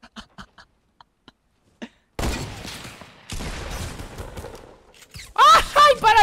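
Gunfire in the video game Fortnite during a squad match, dense bursts of shots close and loud, broken by short gaps, with people talking over it.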